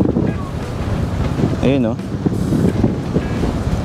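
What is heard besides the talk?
strong wind over Manila Bay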